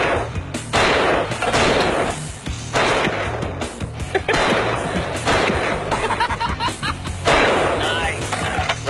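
A Nepalese Bira gun from 1896-97 fires loudly outdoors in a dense, continuous burst of repeated shots, with people talking over the gunfire.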